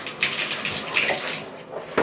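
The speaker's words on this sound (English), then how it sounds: "And I'm just going to turn the water on." A handheld shower head turned on, water rushing out in a steady broadband spray that starts near the beginning and keeps going with small surges, loud and close, no talking.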